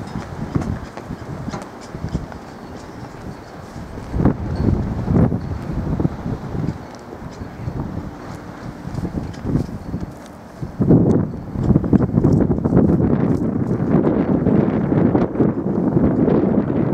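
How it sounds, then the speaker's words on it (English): Strong wind buffeting the microphone at a Lake Huron shoreline, a loud continuous roar with gusty swells that grow heavier in the second half. "Windy out today, folks."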